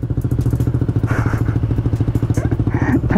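Honda Click 160 scooter with a new dual-tip exhaust, its engine running close and loud with a steady, rapid throbbing pulse and a slightly rising rev toward the end.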